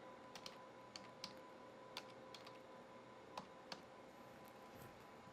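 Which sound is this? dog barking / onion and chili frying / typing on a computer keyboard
typing on a computer keyboard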